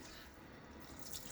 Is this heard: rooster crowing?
no